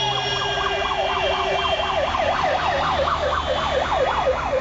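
A wailing siren on a VIP car with a red beacon rises and falls in fast, regular sweeps, loud and close, over a low engine and road rumble.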